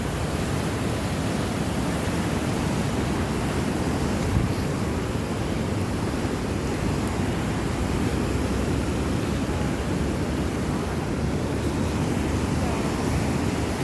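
A whitewater park river in flood at about 7400 cfs, giving a steady, loud, broadband roar of rushing water that fills the whole clip with no break or change.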